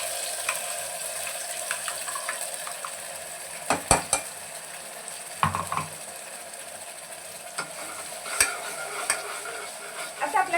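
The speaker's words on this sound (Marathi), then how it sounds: "हलकसं तेल गरम झालं की त्यामध्ये आपण जे वाटलेलं आहे काळं वाटण ते आपण याच्यामध्ये टाकून घेणार आहोत." Black masala paste fries in hot oil with a bay leaf, a soft steady sizzle broken by a few sharp clinks and scrapes of a spoon stirring against the pan, close and fairly quiet.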